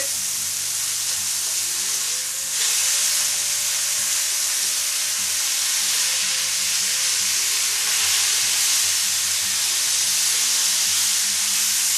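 Quarter Pounder-style hamburger patties sizzle and fry loudly in a pan with a constant hiss, with a brief shift as they are flipped early on.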